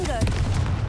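Confringo spell blast in Hogwarts Legacy, a loud crackling explosive boom with a deep rumble and a brief whooshing tone at the start.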